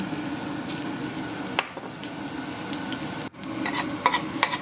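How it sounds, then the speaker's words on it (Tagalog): Salted egg fries in reheated oil while a utensil stirs it, producing a close, continuous sizzle with scraping strokes and short dips, no talk. "mag-reheat ulit tayo ng oil. Tapos ilagay natin ng kanyang salty egg"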